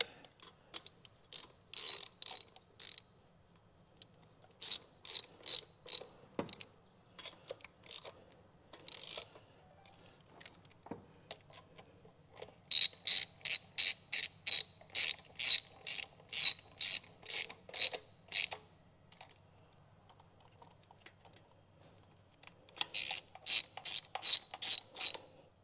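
A hand ratchet tightens a bolt on the carburetor of a Dodge Challenger under restoration, giving repeated bursts of rapid clicking pawl strokes, close and crisp, separated by pauses, with no talking.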